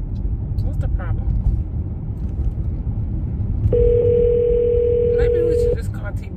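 A phone call rings out unanswered: a steady electronic ring tone sounds for about two seconds over a low background rumble, with voices talking nearby.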